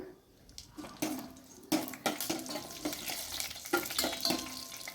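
Dried red chillies fry in a pan while a spatula stirs them, making a quiet sizzle and a series of sharp scraping strokes against the metal. There is no talking.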